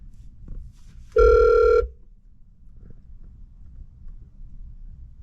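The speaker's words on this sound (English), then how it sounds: "Let's see if we can get them on the phone." Outgoing phone call ringback, a single steady electronic ring tone lasting under a second, clear and close against quiet background noise.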